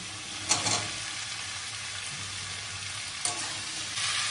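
Potatoes and ridge gourd hit hot oil in a pan with a steady frying sizzle, with two sharper bursts of crackle as pieces go in, and no voices.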